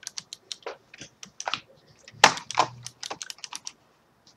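Fast typing on a cheap, flimsy computer keyboard, an irregular run of light, sharp key clicks with a couple of louder thumps near the middle, heard close up with no talking.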